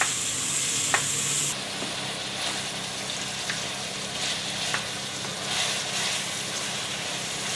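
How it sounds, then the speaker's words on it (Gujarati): Ridge gourd sautés in hot oil in a pan, a soft steady sizzle with occasional utensil scrapes and stirring, fairly quiet and without talk. "તો તુરિયાને આપણે તેલમાં સડવા દેવાના છે।"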